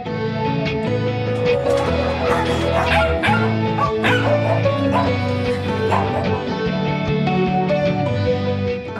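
Many dogs barking and yipping together continuously at an animal shelter housing over 400 dogs, a dense chorus of overlapping barks and whines filling the space with a steady background drone.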